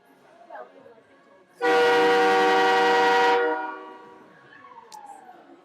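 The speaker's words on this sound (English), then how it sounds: "There is the iconic train horn of Martin Ice Arena" The train horn at Martin Ice Arena, sounded before a college hockey game, blares loud and steady for nearly two seconds inside the rink, then fades into arena echo and crowd murmur.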